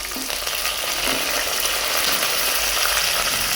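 Onions and curry leaves hit hot oil after mustard seeds have popped, giving a loud, dense, continuous sizzle and crackle close up, steady throughout.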